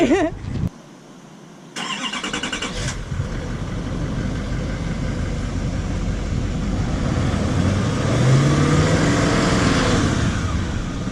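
After a few clicks and a short quiet gap, the diesel engine of a 2018 Chevy Silverado 2500 Duramax pickup cranks and starts, then settles into a loud, steady rumbling idle up close.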